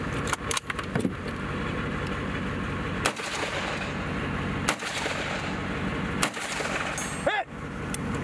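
Rifle shots ring out at a woodland practical shooting match stage, sharp cracks spaced about one and a half seconds apart over outdoor background noise, with a clank and jangle near the end.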